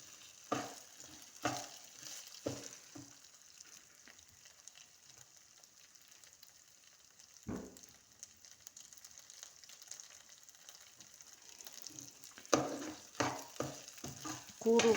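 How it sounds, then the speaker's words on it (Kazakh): Rice frying in oil over a flame, a soft steady sizzle with clusters of stirring scrapes at the start and end and a lone knock in the middle; no talking. "Осылайша отқа қуырып аламыз."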